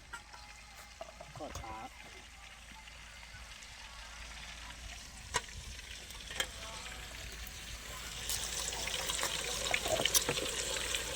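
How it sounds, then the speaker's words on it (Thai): Meat frying in a pan outdoors, a faint sizzle that grows louder toward the end, with scattered clinks and people talking at moments. "นี่ทอดเนื้อเขา"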